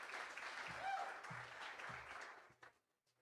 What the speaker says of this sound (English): So please give Derek a massive round of applause